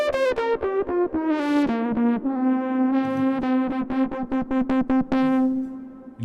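A buzzy, distorted modular synth bass plays a steady stream of repeated notes, thickened with a wide shimmering chorus and slight echo, no voices.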